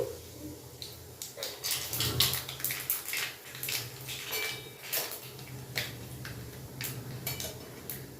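Black cumin and dry red chillies spluttering in hot oil during tempering, heard as quiet crackling pops with faint clinks scattered over a low background hiss, without speech.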